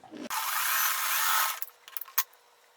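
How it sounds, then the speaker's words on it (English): A sewing machine stitching two 2-inch quilt fabric squares together runs in a fast, buzzing burst for about a second, then stops with a few soft mechanical clicks and taps nearby. "So take 2 2-inch squares, sew them together."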